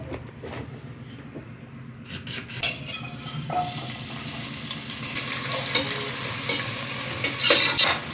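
Avarekalu bath is stirred and fried in a pan, a spoon clattering and scraping against the metal over a bright sizzle that swells louder halfway through, close and busy.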